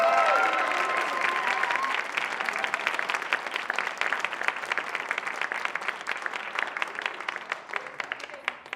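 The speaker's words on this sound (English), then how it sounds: "Another round of applause for our educators." An audience at an awards evening for educators applauds, a broad wash of many hands clapping that stays loud and steady, then gradually thins toward the end.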